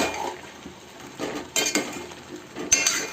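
Shrimp masala being stirred in a pan, with a spoon scraping and clinking against the metal in a few uneven strokes over a faint sizzle, close by.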